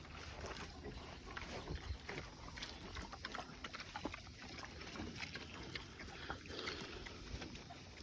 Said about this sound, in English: Give some to the baby pigs.